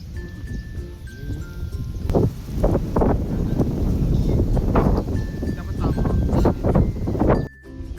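Gusty wind from the tail end of a typhoon buffeting a microphone outdoors where a kite is flown, rough roaring bursts rising and falling, with a few tonal whistles and voices talking over it.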